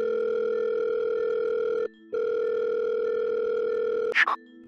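A telephone dial tone hums steadily and loudly, briefly cuts out, resumes, then ends with a short, bright keypad beep as a call is placed.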